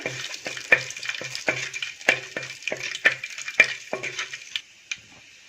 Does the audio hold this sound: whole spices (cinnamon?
yes